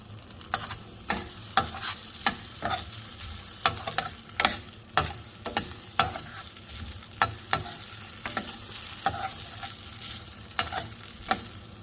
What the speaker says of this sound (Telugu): బటర్ మెల్ట్ అయిన తర్వాత సన్నగా కట్ చేసుకున్న పొటాటో అనమాట ఇది చక్కగా ఫ్రై అవ్వనివ్వాలి